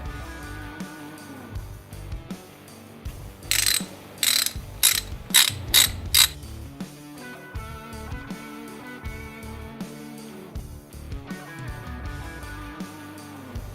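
Ratchet wrench clicking as chain tensioner bolts are snugged on a Harley-Davidson M8 with an S&S tensioner, a burst of six loud, close, evenly spaced ratchet strokes over steady background music.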